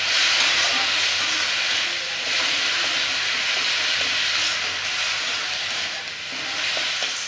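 Cashew paste masala with chopped tomato for begun sundori being sautéed in a pan, giving a steady sizzle and hiss with faint stirring clicks throughout, loud and close with no talking.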